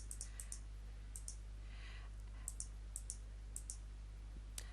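Quiet computer mouse clicks while navigating software folders: a series of light, sharp ticks in small pairs and singles over a low steady hum, with a soft scrolling sound partway through.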